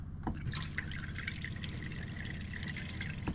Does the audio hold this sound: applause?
no